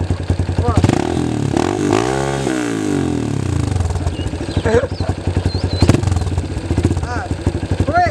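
A dirt bike engine revs and sputters close by, rising and falling in pitch, while people talk loudly over it.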